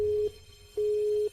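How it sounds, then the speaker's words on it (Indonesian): A telephone call is cut off and a disconnect tone follows: a clean, steady beep sounds in evenly spaced bursts with quiet gaps between them, close and alone. "Kak Rina memotong telepon Anda."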